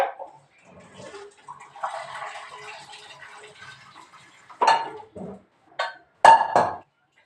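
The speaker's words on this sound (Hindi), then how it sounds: "इसके बाद इसको ठंडे पानी से ज़रूर धोना" Cold water rinses freshly boiled pasta noodles in a kitchen: faint running water, then several short splashing bursts and clinks of a pot or dish, separated by quiet gaps.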